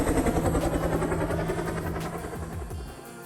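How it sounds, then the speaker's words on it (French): Helicopter taking off, used as a sound effect: a throbbing rotor and engine drone with a rhythmic pulsing beat, loud at first and gradually fading away. "on dirait vraiment un hélico qui décolle"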